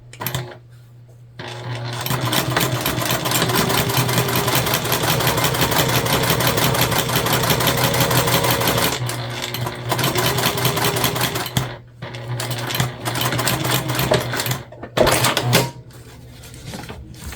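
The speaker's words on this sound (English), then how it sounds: "we're just going to sew this together with the seam allowance in the pattern. We're basically just basting these two together at the moment" A sewing machine basts two lining fabric pieces together in long runs of steady, close, loud rapid stitching, broken by a few brief pauses.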